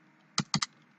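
A computer keyboard being typed on while writing C# code, three quick close keystrokes in a brief burst, the last two nearly back to back, in an otherwise quiet room.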